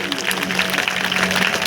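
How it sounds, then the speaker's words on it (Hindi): An audience at a Hindu devotional discourse applauds a performer, a brief dense burst of clapping, fairly loud and continuous, with faint crowd noise mixed in. "ताली बजाएंगे इनके लिए"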